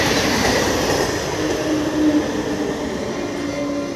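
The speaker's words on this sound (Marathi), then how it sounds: "मित्रांनो बघू शकता रेल्वे" A railway train rolls past nearby, a loud steady rumble of wagons with faint wheel squeal and rhythmic clatter over four seconds, with no voices.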